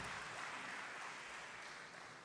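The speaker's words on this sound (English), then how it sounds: "may I request everyone for a big round of applause for our speaker" A seminar audience at a corporate tax talk gives a short round of applause, a faint, dense, even patter of many hands heard from a distance.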